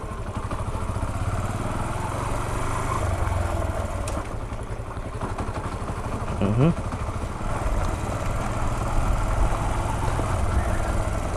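A manual motorcycle engine runs steadily at close range through gear changes, with a brief rising rev about two-thirds of the way in and a person talking over it throughout.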